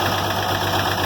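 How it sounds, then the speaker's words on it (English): A worn tractor diesel engine idling steadily and loudly up close, its tone settling as oil pressure builds, a constant low rumble with no voices. "When you hear the engine change like that, that means it got oil pressure."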